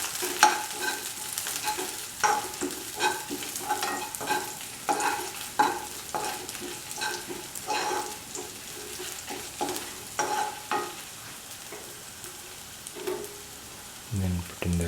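Red chili and salt frying in a pan, with a steady crackling sizzle broken by repeated scraping strokes of a spoon stirring, close and fairly quiet throughout.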